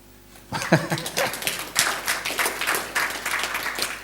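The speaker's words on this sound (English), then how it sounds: "that's worth a clap." Scattered audience clapping at a seminar breaks out abruptly and carries on unevenly for a few seconds, with sharp individual claps and a brief voice near the start.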